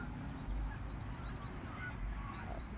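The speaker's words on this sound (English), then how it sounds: "I'm out here in the park enjoying the morning and listen to the birds and the parrots." Birds and parrots call in a park in the morning, with quacking and chirping calls rising over a dense outdoor background of low noise.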